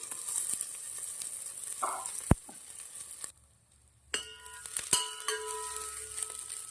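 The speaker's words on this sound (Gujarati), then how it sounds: "સરસ મજાના સોતે થવા દેશું શાકને" Chopped vegetables, including hot green chillies, red bell pepper and cabbage, sizzle while sautéing in a pan for macaroni pasta soup. The sizzle is steady and soft, with occasional clinks and stirring scrapes and one brief quiet gap.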